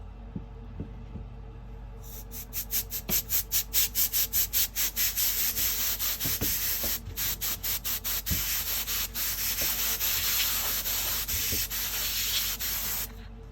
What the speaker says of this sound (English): I do have some canned air. I use this first to move it out because it moves it out a lot faster.